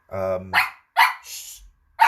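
A pet dog in a pub barks sharply in quick bursts, loud and close, with a person speaking briefly between the barks.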